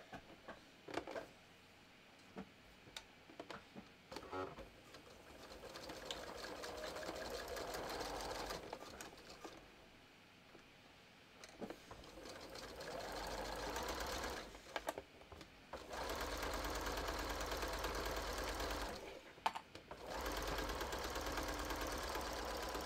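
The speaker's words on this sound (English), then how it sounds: "I'm going to sew, again, 3/8 inch seam allowance" A sewing machine stitching a bathrobe seam at 3/8 inch allowance, sustained motor hum and needle chatter in long runs, pausing briefly between bursts of sewing.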